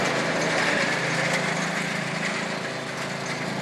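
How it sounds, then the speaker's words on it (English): A riding lawnmower's small engine runs continuously at steady high revs, a loud, rough mechanical whine, with no talking. "You can hear my wife just beating the snot out of my riding lawnmower."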